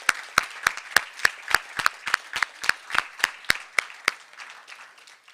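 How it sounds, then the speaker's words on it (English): Slow, evenly spaced applause after a speaker at a leadership symposium, sounding like one or a few people clapping loudly and close in a regular rhythm before it tails off near the end. "So let's give her one more round of applause."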